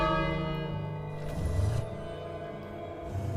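A large bell rings in the King's Quest video game, a deep resonant clang with a long sustaining hum and a second softer stroke, heard alone without talk.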